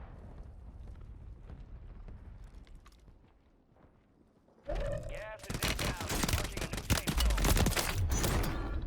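A Warzone gunfight breaks out suddenly after a quiet stretch of faint ticking: sharp, loud rapid-fire bursts and blasts pile up near the listener and keep going to the end.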